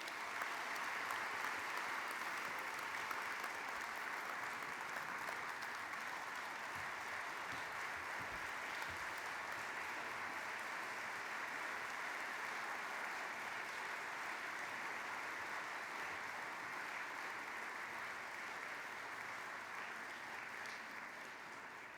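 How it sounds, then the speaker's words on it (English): Sustained audience applause fills a hall at a Hofstra University gala honoring a guest, a dense steady wash of clapping hands that holds for about twenty seconds before tapering slightly at the end. "Can we have one more round of applause for our honoree tonight?"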